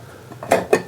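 Two short clinks as metal lids go onto glass jars of homemade cherry limeade moonshine, a pair of crisp, close taps about a quarter second apart over quiet room noise.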